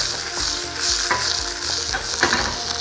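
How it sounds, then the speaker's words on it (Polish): Steady, close sizzling of shrimp frying in a hot cast-iron pan, with occasional soft scrapes and taps as it is stirred. "Wrzucamy na rozgrzaną żeliwną patelnię. Smażymy przez chwilę."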